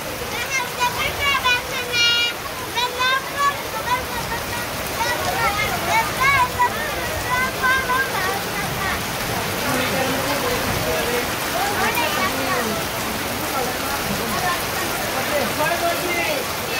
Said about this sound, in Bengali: জোরে বৃষ্টি জোরে জোরে জোরে জোরে